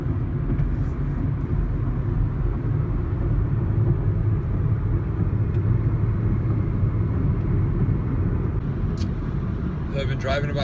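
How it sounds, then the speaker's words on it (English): A car travels on a busy highway between Baton Rouge and New Orleans in heavy traffic. A steady, loud low rumble of engine and road noise runs throughout, with no clear voices. "I've been driving about an hour and a half now, back to New Orleans from Baton Rouge."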